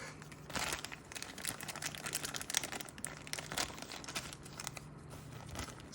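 Plastic packaging crinkles and crunches continuously as two packaged 3.5 mm headphone connectors are unwrapped up close, a soft, busy rustle with small tearing bursts and no talk.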